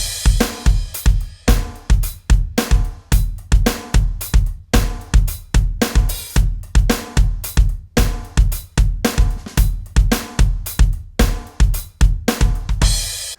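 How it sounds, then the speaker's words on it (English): A drum kit plays a 3/4 groove, with steady punchy kick and snare hits and cymbal wash repeating in a driving rhythm, loud and close, with no voices. "The groove sounds like this, the overall groove feel."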